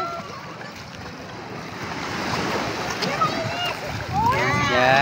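Sea waves wash steadily onto the shore at a beach resort in Real, Quezon, a continuous broadband surf roar with wind buffeting the microphone, growing louder toward the end as voices chatter faintly in the background.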